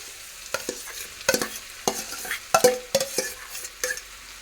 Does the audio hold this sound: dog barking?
no